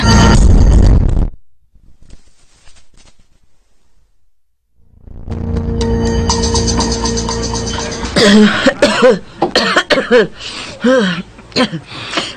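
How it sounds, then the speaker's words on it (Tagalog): A burst of harsh coughing in a radio drama opens the clip, then near silence, followed by a hum and people talking close by. "Uy, giubo-ubo siya."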